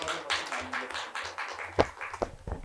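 Scattered applause from a lecture audience at a university forum, moderate and somewhat distant, with a few louder individual claps standing out near the end.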